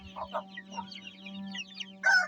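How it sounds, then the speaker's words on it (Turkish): Hens clucking in a backyard coop, a handful of short close clucks and murmurs over a steady low hum, ending in a louder, higher squawk. "Tavuklar da var."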